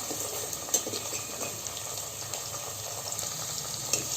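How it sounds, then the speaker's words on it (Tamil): Onions and garlic sauté in oil for a fish curry, giving a soft, steady sizzle with faint stirring clicks and a couple of small knocks, fairly quiet and close. "வெங்காயம், பூண்டு நல்லா வதங்கிடுச்சு"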